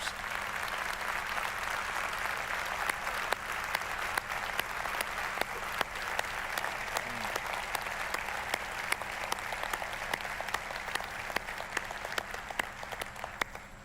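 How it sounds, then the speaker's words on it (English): A church audience applauds veterans at a sermon, a steady, dense wash of clapping from many hands that holds at an even level throughout, fairly distant and sustained without pause. "Applause seems so trite, but please understand that applause comes from a deep heart of gratitude"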